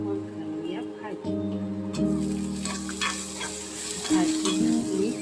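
Vegetables, cauliflower in a spiced Marathi bhaji with turmeric, coriander-cumin powder and chili, sizzle steadily in a pan while being stirred, with scraping clinks over the frying and a voice speaking along.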